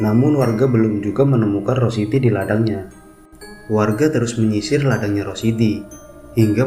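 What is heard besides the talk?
None of the usual background noises is heard.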